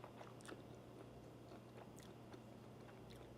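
Crisp crunching bites and chewing of pickled Brussels sprouts with ham, close and fairly quiet, several crackly bursts spread over a few seconds with no talking.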